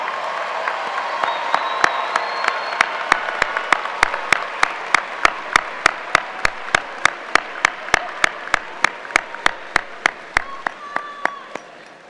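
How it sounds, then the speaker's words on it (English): A commencement crowd applauds steadily for about twelve seconds, dense clapping with a few sharp, regular claps standing out near the mic, fading slightly at the end. "give a rousing round of applause to those who supported your success"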